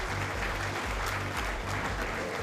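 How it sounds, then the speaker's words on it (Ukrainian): Spectators in an exhibition centre hall at a professional boxing show applaud and cheer after the final round, a continuous dense roar of clapping and crowd noise with a low rumbling hum underneath. "Я думаю, ви чуєте оплески і овації глядачів"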